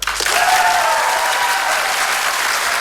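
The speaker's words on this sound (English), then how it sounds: "So applaud if you think it's in box number 1." A large studio audience at a mentalism show applauds to vote for a box, a dense, sustained roar of clapping from many hands, steady and loud with a few cheers mixed in.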